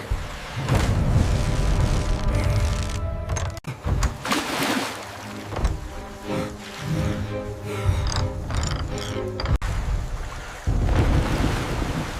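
Strong floodwater rushing and churning around a house door, a loud continuous roar of surging water with splashes, steady throughout with brief dips.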